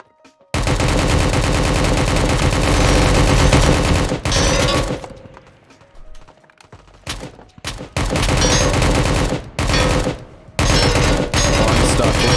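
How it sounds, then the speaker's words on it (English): Loud, sustained automatic gunfire rattles in the military shooter Project Delta, broken by a brief lull and then sharp bursts of repeated shots at close range. "Now we're getting shot at and also rubber banded"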